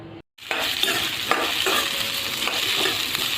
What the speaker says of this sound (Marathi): आता यातले 2-3 कांदे आपण भाजून घेणार आहोत आणि सुकं खोबरं पण अर्धी वाटी भाजून घेणार आहोत।